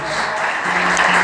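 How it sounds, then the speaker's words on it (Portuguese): A church congregation applauds together, a dense, steady wash of clapping that swells slightly near the end and runs for about a second. "Aplauda o Senhor, queridos."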